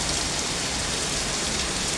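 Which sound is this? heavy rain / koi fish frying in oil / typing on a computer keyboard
heavy rain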